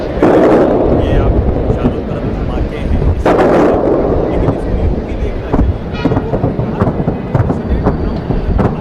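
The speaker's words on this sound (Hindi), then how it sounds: "बहरीन में धमाके की आवाज सुनाई दे रही है।" Explosions during wartime news coverage of strikes around Bahrain and Tehran, heavy booming blasts with a big burst near the start and another around three seconds, followed by rumbling and smaller cracks amid noisy background.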